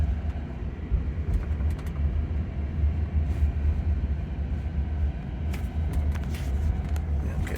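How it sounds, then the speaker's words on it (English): Inside a Cruise robotaxi riding through Austin, a steady low road rumble and engine hum carries through a left-hand turn, with faint rattles and clicks from the cabin. "Let's see how it handles this left-hand turn."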